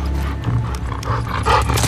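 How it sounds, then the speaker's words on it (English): A hostile dog in The Last of Us Part 2 growls and barks close by, mixed with heavy footfalls and other combat noise in a loud, busy stretch of gameplay. "Uh oh, we got a dog. We got a dog!"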